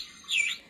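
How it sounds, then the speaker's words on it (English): A single bright, high chirp from a toy bird, brief and fairly close, rising out of a faint background hiss with no talking. "is that a toy bird?"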